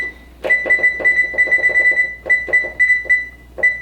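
A kitchen timer beeps loudly and close by in quick runs of electronic tones, broken by brief pauses as it is set.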